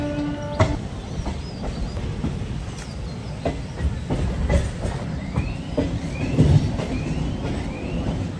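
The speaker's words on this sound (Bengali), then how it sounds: "অবশেষে আমাদের ট্রেন মুর্শিদাবাদ জংশন ঢুকে" A MEMU local train rolls along the rails toward Murshidabad Junction, a steady broadband rumble with irregular clickety-clack wheel knocks and occasional faint squeals, heard up close from on board with no talking.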